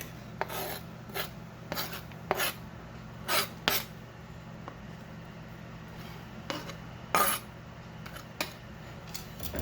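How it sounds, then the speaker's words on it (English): A utensil scraping and rasping in a pan as minced or sliced garlic is stirred through melted butter over medium-low heat, in short irregular strokes with quiet pauses between them, close and fairly soft. "Give that a stir to get everything evenly coated in the butter."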